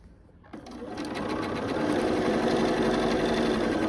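Sewing machine stitching Irish Chain quilt pieces starts after a brief quiet moment, then settles into a loud, steady, rapid mechanical whir close up, with no talk.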